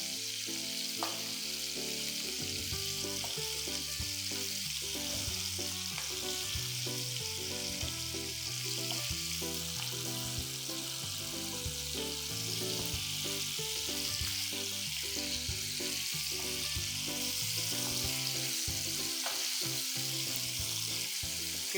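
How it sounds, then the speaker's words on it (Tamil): Prawns deep-fry in hot oil for prawn popcorn, a dense, continuous sizzle and bubbling held at a steady level, with faint stirring clatter and no clear speech. "ஸோ இது எல்லாம் ஒன்று ஒன்றா போட்டு பொரிச்சு எடுத்துக்கலாம்"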